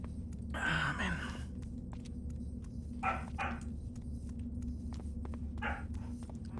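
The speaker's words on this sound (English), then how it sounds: "My dog and her barking." A pet dog barks a few times at a distance, short muffled bursts spaced apart over a steady low room hum with faint clicks.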